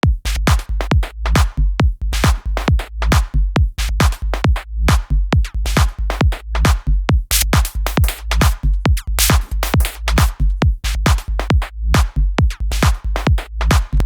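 A thick distorted bassline pulses under sharp, regular claps in a driving electronic loop, loud and close, with no voices.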